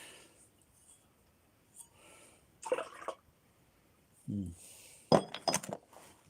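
A brand new glass gives several sharp clinks, a single tap followed later by a quick cluster of bright chinks, with faint background noise and brief vocal sounds between them.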